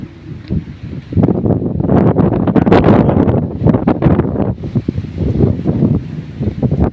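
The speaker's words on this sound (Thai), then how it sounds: "ลมพัดมากับมีดินทรายมาพร้อมครับ" Strong wind carrying dust and sand buffets the microphone in loud, rough gusts in Israel, a roaring blast that swells and holds for several seconds.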